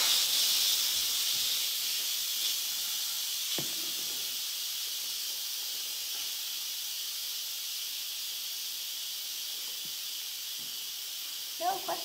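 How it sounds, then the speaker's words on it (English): An Instant Pot pressure valve flipped open, releasing a loud, continuous hiss of steam that holds steady for about twelve seconds, with a few faint clicks and a brief knock near the end. "I'm gonna flip it and it's gonna be super loud. Steam's gonna come out."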